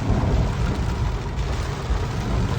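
Steady, dense first monsoon rain in Ropar pours down with a low rumbling wash underneath, constant and fairly loud throughout, with no voices.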